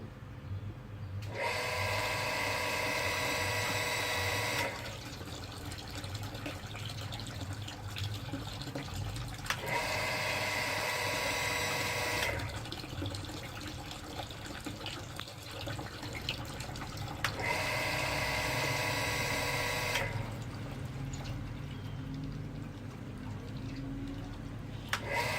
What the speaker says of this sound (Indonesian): Sekarang pompa akan kita nyalakan kembali.